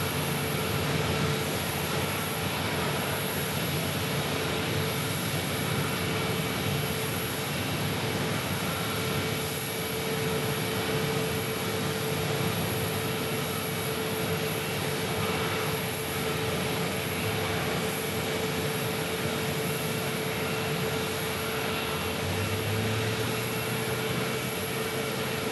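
Airliner jet engines drone in a steady, loud, unbroken roar with a constant high whine as a JetBlue plane taxis at Phoenix Sky Harbor Airport, heard from a distance with no talking.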